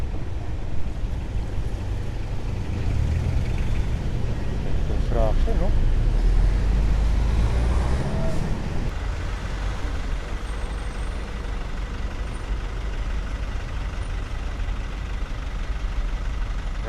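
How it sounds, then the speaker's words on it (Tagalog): Steady roar of cars and trucks on the NLEX expressway, with a heavier vehicle swelling past midway and a brief air-brake hiss, dense and continuous throughout. "Grabe yung traffic ngayon dito"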